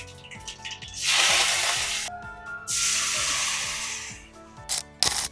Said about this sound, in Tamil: இன்னும் மிளகாலாம் தாளிக்கணும்ல.